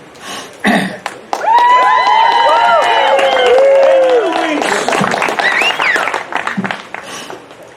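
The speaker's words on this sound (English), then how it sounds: "Normally they tell you to hold back your applause" A crowd at the Dermer Dreams Summer Jam cheers with rising and falling whoops and shouts over scattered clapping, swelling loudly after a short quiet opening and then thinning out toward the end.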